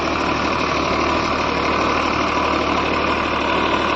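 A 2018 Massey Ferguson 245 DI tractor ploughs a field with a subsoiler, its diesel engine a loud, steady, close drone under load with no pauses and no talk.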